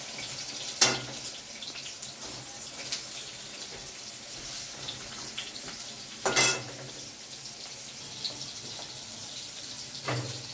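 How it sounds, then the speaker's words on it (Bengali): A steady hiss of pointed gourd (potol) frying in hot oil, with a few sharp clatters of a utensil against the pan. "এখন পটলগুলোকে ভেজে নেব।"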